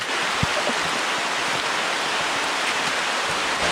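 Dense, steady rain in French Guiana hisses evenly throughout, a constant broadband wash with no voices.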